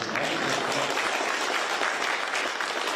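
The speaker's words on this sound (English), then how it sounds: "You could applaud that." An audience claps steadily, a dense sustained wash of applause lasting throughout at an even loudness.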